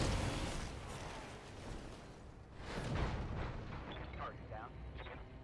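Mech weapons in the BattleTech video game fire in heavy artillery-like booms and blasts, with a large burst midway and rumbling aftermath, fairly quiet overall.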